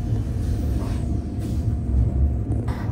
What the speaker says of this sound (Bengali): আমরা ভ্যালিড ইউরো পাস নিয়ে ট্রেনে ট্রাভেল করছি।